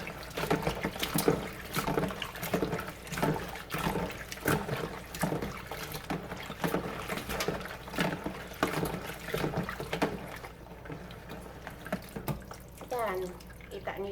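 Raw shrimp being rinsed in a strainer under running water in a home kitchen, with steady splashing and sloshing of water and hands moving through it, continuous and close, with some talking mixed in.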